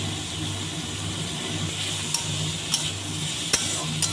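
Steady sizzling of chopped tomatoes with salt frying in a pan, with a few faint clicks and light scrapes over a low hum.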